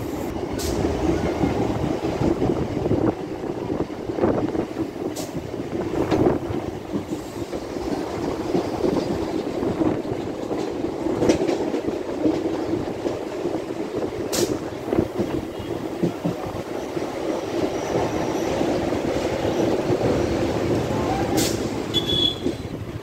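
An MMTS local commuter train in Hyderabad gathers speed, its steady rumble and rolling wheel noise filling the whole stretch, with sharp rail clicks and squeals popping up every few seconds as it runs on.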